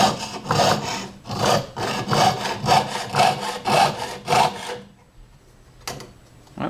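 A jeweler's saw cuts metal in quick, evenly spaced rasping strokes, about eight in a row, close and clear, before stopping, followed by a faint scrape.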